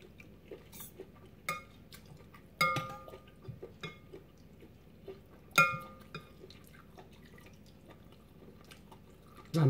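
Ladling broth for beef noodle soup at a food stall brings scattered clinks of a metal ladle against bowls and pots, with soft drips and splashes, sparse and close in a quiet setting.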